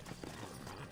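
Horse hooves clip-clop in a quick, quiet rhythm in the video game Red Dead Redemption, a brief run of soft hoofbeats with no voices.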